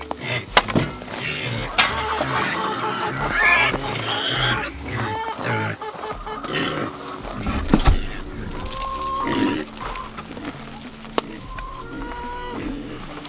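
Pigs on a homestead grunt and squeal close by in a busy, overlapping chorus, with scuffling and rustling around them and no speech.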